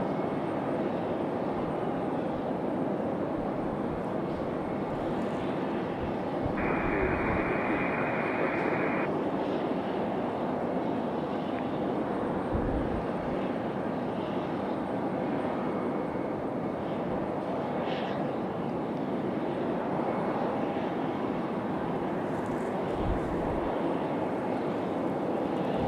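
A United Boeing 737-700 arriving from Houston at Raleigh-Durham International Airport gives a steady, loud jet roar that holds for the whole stretch with no voices over it.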